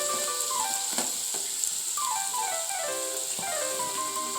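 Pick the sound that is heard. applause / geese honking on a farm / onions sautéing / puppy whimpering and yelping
onions sautéing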